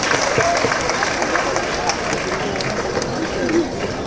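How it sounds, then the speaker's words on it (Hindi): A large crowd at a Jain initiation ceremony at Shri Sammed Shikharji applauds, producing a dense, steady wash of clapping throughout with no clear pauses. "एक जोरदार ताली उनके लिए"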